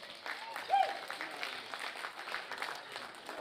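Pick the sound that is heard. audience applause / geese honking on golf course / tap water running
audience applause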